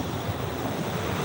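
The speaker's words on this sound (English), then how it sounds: "it is a little windy here" Wind blowing across an open area beside a river, a steady broad rushing roar buffeting the microphone with no pauses or other sounds.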